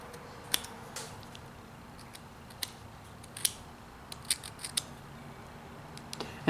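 A knife cuts back a carved wooden block, giving a handful of sharp, crisp snicks spaced irregularly against a quiet background. The cuts are close and gentle, with one sharper slice near the end.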